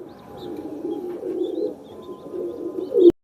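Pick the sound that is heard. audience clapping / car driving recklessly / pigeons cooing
pigeons cooing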